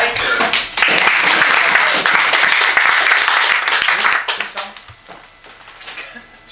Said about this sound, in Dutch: Mag een applaus voor Erwin van Dijker.